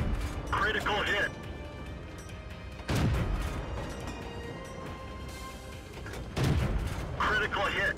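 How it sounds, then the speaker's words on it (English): In a tank video game, a T37 tank's cannon fires in heavy booming blasts with rumbling tails, about three shots spaced a few seconds apart, loud and close, with a voice talking over them. "I'm able to squeeze off a second shot there before the 44 can even return fire."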